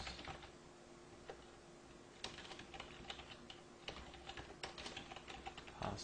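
Computer keyboard typing at close range, a steady patter of quiet key clicks with occasional sharper taps, irregular rhythm and no talking over it.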